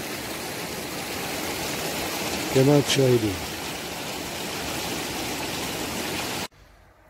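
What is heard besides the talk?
small river stream flowing over rocks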